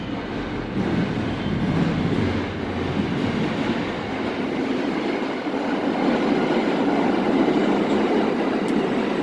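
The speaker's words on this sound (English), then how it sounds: "Sorry for the train in the back." A train rolls past steadily in the background near a workshop where a Mack truck frame is being worked on, a continuous loud rumble with faint rail clatter lasting throughout, with no talk.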